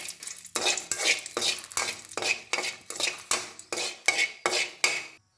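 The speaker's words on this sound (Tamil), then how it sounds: "மிளகா நல்லா வறுபட்டுச்சு" Five dried red chillies dry-roasting in a pan, heard as about ten rhythmic scraping stirs of a utensil against the metal with a faint crackle between strokes, ending in silence.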